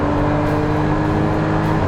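Porsche 981 Cayman with a sports exhaust after a downshift, its engine holding a steady, throaty drone with a low rumble and no obvious rev changes, heard close and continuous.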